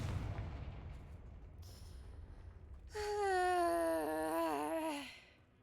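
A Confringo blasting spell in the Hogwarts Legacy video game goes off as a dull boom, followed by a loud rising and falling magical whoosh with layered tonal ringing that fades out after a couple of seconds.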